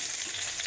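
Onion sizzling in hot oil in a pan while a curry of jackfruit and goat meat is cooked with whole spices, a steady, close, bright frying hiss with no talk.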